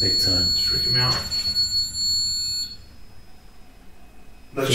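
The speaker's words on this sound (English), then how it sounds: "that alarm's freaking me out" An electronic alarm sounds inside a 400-year-old abandoned mansion. Its high, steady tones run under people talking for about two and a half seconds, then stop abruptly.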